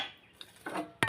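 A kadai pan is set down on the stove before oil goes in, ending in one brief metallic clank after quiet kitchen rustling.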